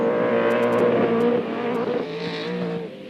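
Damaged race car with a flat front left tyre crawling back to the pits at Calder Park Raceway, a steady engine drone that slowly fades, with a few sharp ticks early on.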